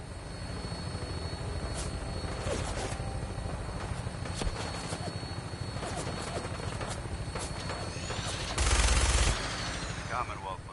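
An aircraft in flight in Fallout 4, a constant rotor-like drone under bursts of distant gunfire, with a voice speaking and a brief louder rush near the end.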